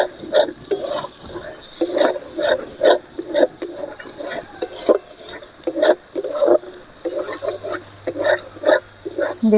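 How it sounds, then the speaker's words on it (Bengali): Garam masala spices frying and being stirred in a pan while making chana paneer masala, with steady sizzling and repeated scraping strokes of a spatula in a brisk rhythm, close up and with no talk. "গরম মশলা, ভালো করে ভেজে নিতে হবে।"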